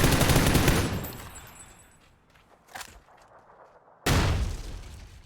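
Gunfire in PUBG, with dense bursts of rapid shots at the start and again at the end and a single sharp report in the quieter middle, loud and close.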